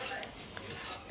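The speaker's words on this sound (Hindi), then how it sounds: "अभी तो सूजी भून रही है" Semolina roasting in a pan for halwa, with a faint, brief scraping and stirring rasp of a spoon against the pan.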